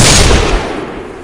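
A single loud gunshot blasts out at once, then a short fading tail as it decays, close and alone, fired at a zombie's head as a narrated story sound effect.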